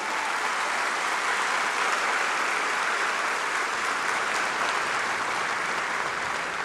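Audience at an event applauding the Prime Minister: steady, sustained clapping from a large crowd, even in loudness and unbroken throughout.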